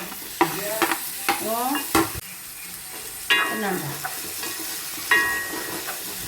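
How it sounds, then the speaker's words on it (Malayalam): Tomatoes sizzling as they are stirred into sautéed onions for a Kerala-style duck roast, with loud repeated scrapes and knocks of a spatula against the pan over a steady frying hiss. "ഉള്ളിയെല്ലാം ഇവിടെ നല്ലതുപോലെ വഴന്നിട്ടുണ്ട് ഇനി നമ്മൾ ഇതിലേക്ക് തക്കാളി ഇട്ട് കൊടുക്കാം"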